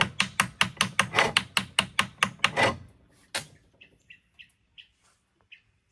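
A hammer beats on a lawnmower part in a quick run of about a dozen sharp, loud metallic blows, then stops. Faint, scattered chicken chirps follow in the quiet.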